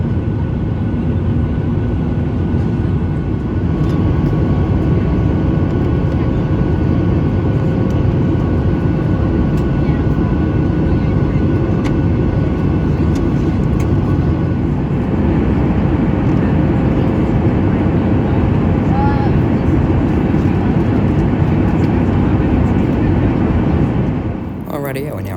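Steady loud broadband roar inside an airliner cabin as the plane climbs toward a cruising altitude of 38,000 feet on a Melbourne to Alice Springs flight, a constant engine and air rush with no breaks.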